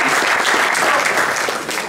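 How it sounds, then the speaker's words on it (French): Live comedy club audience applauding steadily at a stand-up show, a dense, loud, continuous wash of clapping with no talk over it. "Bravo, on peut l'applaudir encore."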